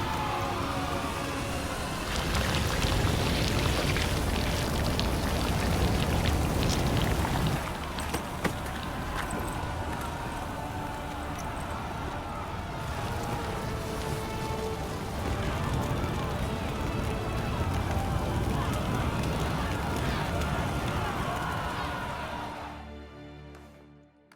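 Rain falls steadily across the open world of The Witcher 3: Wild Hunt, a dense, loud downpour that runs almost without a break for over twenty seconds before cutting off abruptly at the end.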